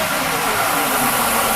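An older car engine, freshly fitted with a rebuilt fuel distributor and warm at operating temperature, takes a quick throttle blip amid broadband engine roar and hiss, loud and close for a brief moment.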